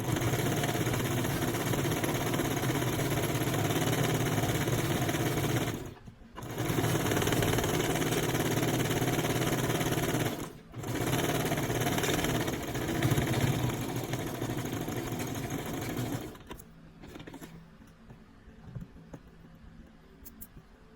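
A Brother sewing machine stitches a fabric beanie with a steady, close, continuous motor whir. The stitching breaks briefly twice, then stops near the end, leaving quieter handling sounds.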